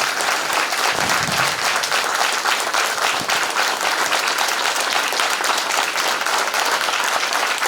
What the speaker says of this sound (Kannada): ನಾಡಿನ ಪರವಾಗಿ ನೀವೆಲ್ಲರ ಜೋರು ಚಪ್ಪಾಳೆ ಬರಲಿ ಅವ್ರಿಗೆ